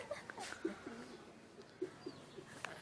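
Racing pigeons coo softly at close range, several low murmuring calls scattered through a quiet background with brief faint chirps.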